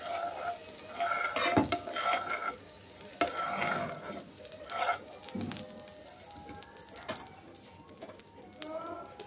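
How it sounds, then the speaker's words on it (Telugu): Paneer frying in ghee in a hot pan, a steady sizzle with repeated stirring scrapes and clinks, close and moderately loud throughout. "పన్నీర్ కొంచెం అలా ఫ్రై చేసుకుంటే చాలా బాగుంటుంది."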